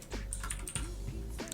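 Quick, light clatter of keys on a computer keyboard while writing HTML, a steady run of close clicks lasting under two seconds with no voice.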